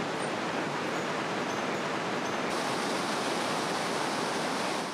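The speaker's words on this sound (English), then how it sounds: "A trail leads to the Brazilian side of the Devil's Throat, the deepest section of the falls, where 14 different waterfalls drop by over 100 meters." The Iguacu Falls waterfall near the Devil's Throat, where many falls drop over 100 meters, sends up a continuous, even roar of rushing water, dense and steady with no breaks.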